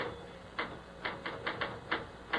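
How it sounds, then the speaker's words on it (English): A typewriter clacking in a radio drama, with quiet, sharp keystrokes coming in an uneven rhythm over a steady hiss, roughly eight strikes in a little over two seconds. "Stop that typing."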